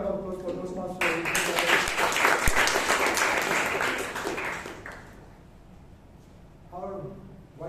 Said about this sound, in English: One more round of applause for Toastmasters.